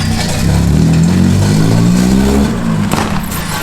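A Honda Del Sol's engine revs loudly up close, its pitch climbing smoothly and holding before easing back, with a faint clatter near the end.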